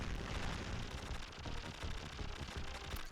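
Continuous rapid enemy gunfire and blasts in the side-scrolling game Contra: Hard Corps, dense and unbroken, with retro game sounds blending into a busy wash.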